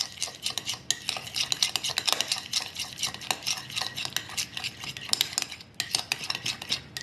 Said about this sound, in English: I'm just going to kind of mix it up a little bit because it's Greek yogurt and it's always extra thick